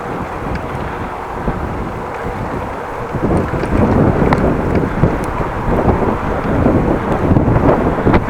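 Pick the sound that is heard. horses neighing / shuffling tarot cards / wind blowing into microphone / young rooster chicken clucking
wind blowing into microphone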